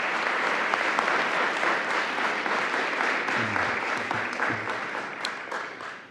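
A room at a school board meeting gives National Merit Finalists a sustained round of applause, with steady, dense clapping from a moderate crowd that holds throughout and slowly thins toward the end, while a voice murmurs briefly in the middle.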